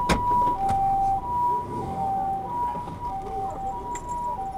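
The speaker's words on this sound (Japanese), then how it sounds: "救急車が来たな" An ambulance siren wails in a steady two-tone pattern, heard from the cab of a large truck on the road, loud and continuous over engine and traffic rumble throughout.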